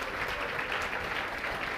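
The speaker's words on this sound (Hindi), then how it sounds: "जोरदार तालियों से इन सर का स्वागत होना चाहिए।" Dense, steady clapping from a classroom audience welcoming a visiting general studies teacher, loud and continuous with no voices on top.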